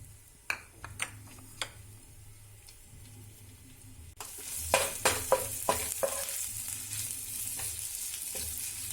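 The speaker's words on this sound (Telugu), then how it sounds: "ఆయిల్ వేసిన తర్వాత మనం అల్లం అండ్ పచ్చిమిర్చి తరుగు వేసి ఫ్రై చేసుకుందాము" Chopped ginger and green chillies fry in oil in a pan, starting with a faint hiss and a few sharp ticks, then bursting into louder crackling sizzle as the pieces hit the oil, with scattered clacks of stirring.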